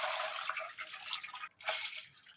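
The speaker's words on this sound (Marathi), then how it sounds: "त्याच्यानंतर त्याच्यामध्ये साधं पाणी ओतायचंय" Plain water poured over amla in a vessel, a short close hiss and splash of running water with a brief break midway, fairly faint.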